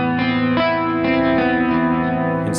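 Electric guitar strumming minor barre chords through distortion, chorus and echo effects, a few sustained chord hits ringing out loudly with no voice over them.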